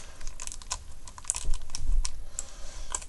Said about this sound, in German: Nehmen wir nochmal die Schere für das nächste Teil.